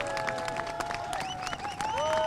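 Applause from a concert audience outside an opera house as musicians come down the steps at a solidarity concert for strikers, moderate clapping heard at some distance beneath sustained instrumental tones.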